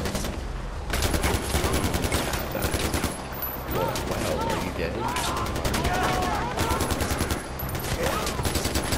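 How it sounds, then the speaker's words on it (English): Dense gunfire from the video game Far Cry 4 rattles almost continuously, rapid automatic bursts layered with louder single shots and explosions, loud and close throughout. "Who is shooting me?"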